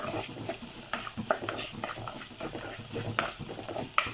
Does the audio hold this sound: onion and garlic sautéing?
yes